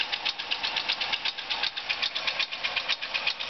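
Lifter noise from a Monte Carlo engine after an intake gasket change, a rapid steady ticking tapping over the idling engine, close and even in rhythm throughout.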